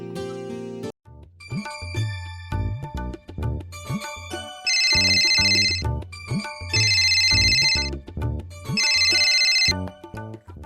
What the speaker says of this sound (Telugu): రవి, ఫోన్ చేస్తున్నావేందిరా?